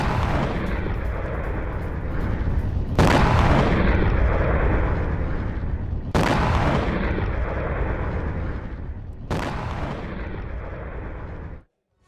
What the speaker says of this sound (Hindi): 20 मिनट में 20 से ज्यादा मिसाइलों से अटैक किया गया है